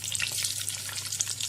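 Small onions, dried red chillies, mustard seeds and a bit of asafoetida sizzle and crackle loudly in hot oil, a close, dense frying hiss with quick pops and no voices.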